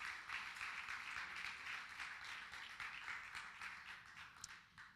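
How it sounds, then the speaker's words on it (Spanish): A conference audience at a women's summit session applauds their pastor, producing quiet, even clapping heard from a distance that carries on steadily and fades slightly at the end. "Un aplauso para nuestra pastora."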